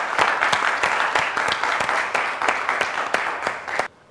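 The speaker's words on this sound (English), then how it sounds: "Big round of applause to him." Loud, steady applause from an audience at a secondary school quiz competition, crisp claps throughout before cutting off abruptly.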